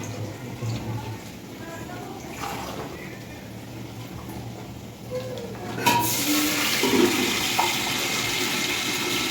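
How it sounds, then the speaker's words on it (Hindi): Water poured into a cooking pot of rice, a sudden splashing gush that starts partway through and keeps running, close by after a stretch of quiet kitchen sounds. "बाद में पानी डालना है। हाँ, पानी डाल दो।"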